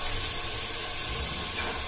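A tadka of tomato, onion and dal sizzles and hisses steadily in a pan in a home kitchen, a dense, constant frying noise heard up close with no voices.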